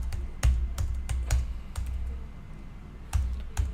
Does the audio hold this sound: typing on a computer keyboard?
yes